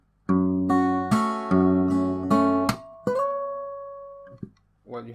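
Bar 50 of a fingerstyle acoustic guitar arrangement of the Naruto Shippuden theme: bright strummed chords, then a sharp slap and ringing open strings fading out, played up close and alone.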